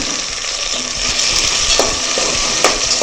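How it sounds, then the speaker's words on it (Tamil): Onion and tomato sizzle while being stirred in a pan for duck curry, a steady close frying hiss with a few sharp spatters and scraping stirs. "இதை நல்லா இப்போ வதக்கிக்கலாங்க"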